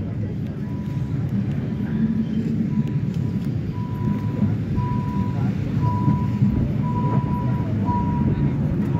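Bernina Express train at Alp Grüm station in the snowy Alps: a steady, heavy rumble of rolling rail cars with a repeating faint beeping tone, and someone talks over the noise.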